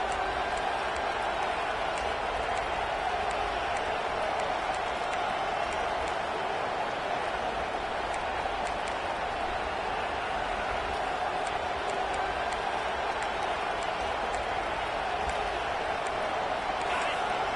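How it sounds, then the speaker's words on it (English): Football stadium crowd roaring at full volume after a fumble, a dense, continuous wall of cheering that holds steady throughout with no breaks. "This crowd, full throat, splitting the eardrums and letting them know it's going to be a long day."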